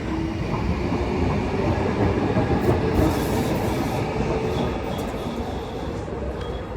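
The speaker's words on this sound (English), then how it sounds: "Comes tram 11." Tram line 11 rumbles past close by on a Frankfurt street, its steady rolling roar with faint rail clatter filling the whole stretch.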